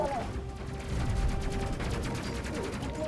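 Rapid gunfire in the Space Crew video game, a steady rattling fusillade of shots at moderate level, mixed with a dense background of game sound.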